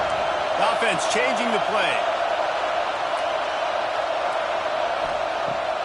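A college football crowd at Oregon vs Michigan State roars in a loud, steady wash throughout, with a commentator talking over it and a few brief whoops rising above the din.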